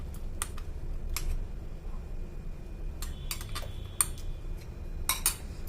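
A spoon knocks and scrapes against a pan as custard mix is stirred into boiling milk for fruit custard, giving sparse, sharp clicks in irregular bursts over a low, quiet background.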